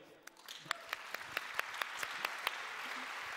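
Applause from a session audience honoring forum attendees, a steady wash of many hands with sharper individual claps standing out, sustained at moderate level throughout.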